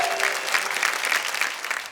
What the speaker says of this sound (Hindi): अब आइए जरा जोरदार तालियां बजाइए